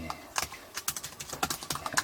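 Typing on the keyboard of a Stormbook 13 budget laptop: a quick run of close, crisp key clicks in an uneven rhythm, some strokes louder than others.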